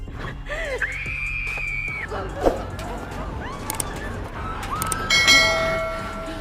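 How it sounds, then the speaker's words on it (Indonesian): A woman's shrill scream rings out during a stabbing in a crowded dormitory scene from Squid Game, amid shouting, chaotic commotion and a sudden loud burst near the end. "Jeritan seorang wanita terdengar nyaring saat ditusuk."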